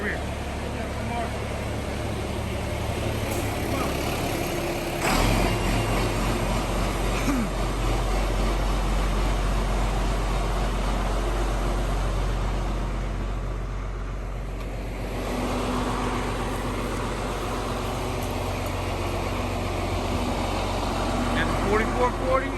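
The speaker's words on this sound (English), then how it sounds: "Here, let's catch the tractor coming out. Oh, he's firing her up." A 4440 tractor starts up and drives out, its low engine rumble steady and fairly close for a long stretch, with people talking over it.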